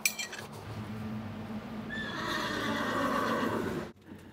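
A horse at a farrier's whinnies loudly and at length, a long rising and falling neigh close by, cut off abruptly near the end.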